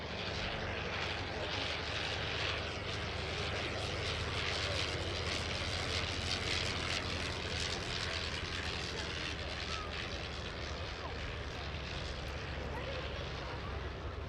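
A vintage Fokker aircraft with its original engine flies past, a continuous propeller-engine drone at moderate distance, broad and steady throughout with a faint whooshing texture.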